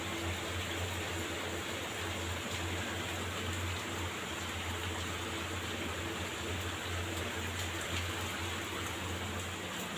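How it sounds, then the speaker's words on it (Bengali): Steady, dense hiss of heavy rain pouring down, constant and unbroken throughout with no voices, like a downpour heard from indoors. "বাইরে মুষলধারায় ভালোই বৃষ্টি হচ্ছে।"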